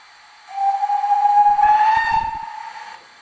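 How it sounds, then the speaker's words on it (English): A steam locomotive gives one long, sustained whistle lasting about two and a half seconds, loud and steady with a hissing edge, while low rumbling chuffs and wheel noise sound faintly beneath it. "Here's the longer whistle."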